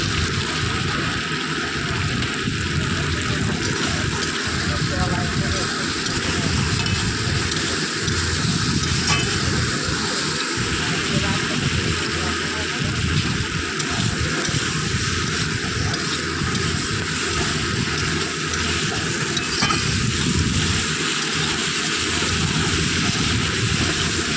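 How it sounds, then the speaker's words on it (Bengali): Eggplant fries in a pan while being stirred, a dense, steady sizzle holding loud and close throughout with faint scraping of the spoon now and then. "দেখো সুন্দর করে কষছি"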